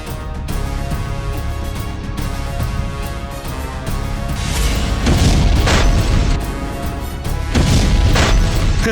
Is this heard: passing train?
no